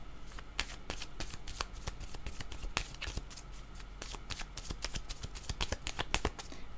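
Tarot cards are shuffled by hand in a dense, continuous run of quick riffling flaps and taps, close and steady for several seconds, with no talking over it.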